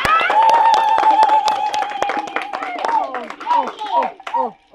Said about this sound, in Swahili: Wapi makofi ya Musimbi?